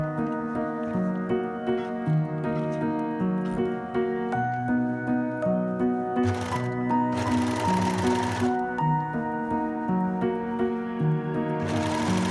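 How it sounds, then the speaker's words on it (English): A sewing machine stitching the side seams of a summer dress, its needle whirring in a steady close rhythm with two short bursts of faster, louder running. "Sew both the side seams and again press and overlock."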